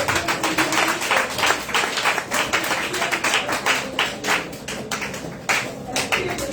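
A church congregation claps in quick, uneven bursts during a Sunday Tabernacles service, sounding close and busy as many hands overlap, with faint voices mixed underneath.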